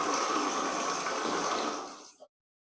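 Water runs steadily from a washbasin tap in a clean public toilet, a broad continuous gush that holds strong and close, then cuts off abruptly near the end.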